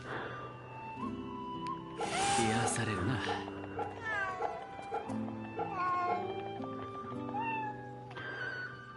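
A cat meows repeatedly in the action game Fate/Samurai Remnant, with several drawn-out, wavering cries mixed into game music and sound effects, while a person talks over it.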